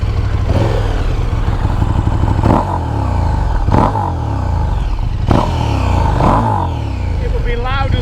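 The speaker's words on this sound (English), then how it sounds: "Exhaust sounds gorgeous, and that's with a stock can on it." A 2020 KTM Superduke GT motorcycle with its stock exhaust can, a loud close engine drone on the move with repeated sharp bursts as the throttle blips, and a voice talking over it.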